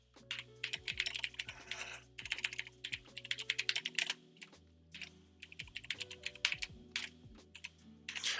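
Typing on a computer keyboard close by, bursts of quick, crisp key clicks in uneven runs with short pauses between, no talking.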